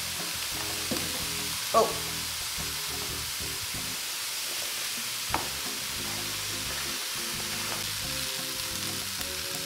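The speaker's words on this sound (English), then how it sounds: "we're gonna put the potatoes in now." Potatoes frying in a hot pan while cooking jjajangmyeon, a steady loud sizzle with stirring scrapes throughout and one brief exclamation.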